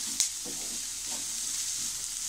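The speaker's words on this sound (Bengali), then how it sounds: "আলু পেঁয়াজ ভাজার মতো লাগছে না?" Onions fry in a pan with a loud, constant high sizzle, plus one sharp tap and a few faint scrapes of stirring close by.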